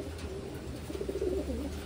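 Taiwan pigeons cooing softly in a low, warbling murmur, close by and fairly faint over a background hum.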